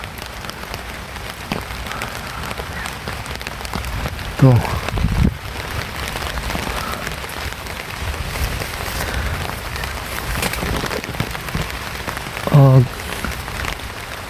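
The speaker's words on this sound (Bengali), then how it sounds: "আকাশে প্রচুর মেঘ, তো ধীরে ধীরে বৃষ্টি হচ্ছে।" Rain falls steadily on a field and garden under heavy cloud, making a continuous, even patter close to the microphone. Someone talks briefly over it, and a few short, louder bursts break through twice.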